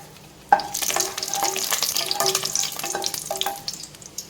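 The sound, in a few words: dried red chillies sizzling in hot groundnut oil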